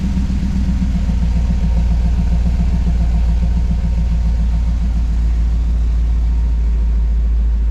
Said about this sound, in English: The idle did just come up on the Phytech, but will eventually come down